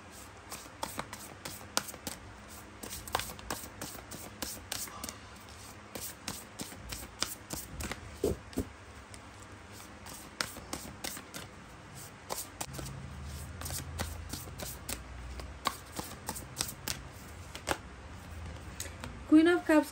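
Tarot cards being shuffled and drawn, heard as a steady run of soft, quick riffling flicks and snaps close by with faint low rustle, no talking over them.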